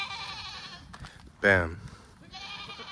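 Goats bleat in an open farm gate area as they are let out, with a nanny goat among them; a loud, close bleat rises in the middle between fainter calls at either end, while a person speaks briefly nearby.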